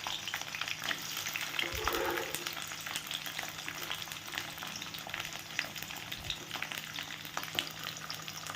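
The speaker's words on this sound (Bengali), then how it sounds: "এবার এর মধ্যে দিয়ে দেব গ্রিন বেল, মানে ক্যাপসিকামটা" Green bell pepper (capsicum) frying in white oil, a steady broadband sizzle running throughout with a few soft stirring knocks, no voices.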